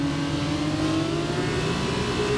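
Formula 2 race cars roaring at the start of the Austrian feature race in a racing video game, a steady dense engine drone with layered revving tones throughout.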